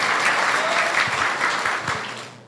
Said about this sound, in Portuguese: E vamos dar uma salva de palmas para Marcione?